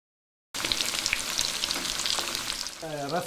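Egg kebab pieces coated in chicken masala powder sizzle and crackle in hot coconut oil in a pan after a moment of silence, with a brief scrape of stirring near the end.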